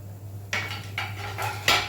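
Masoor dal and urad dal stirred in a hot pan: four quick scraping, clattering strokes of a spoon against the pan in under two seconds, close and without talk.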